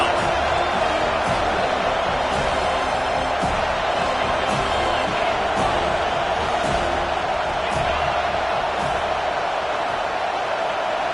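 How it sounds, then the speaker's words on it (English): A football stadium crowd roars steadily on third down, a dense, loud wall of cheering and whooping that holds throughout without a break. "Decibels rising as the crowd gets behind this defense on 3rd down"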